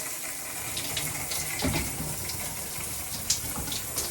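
Water runs steadily from a Moen shower faucet, a continuous splashing rush close by, with a small knock partway through and no speech.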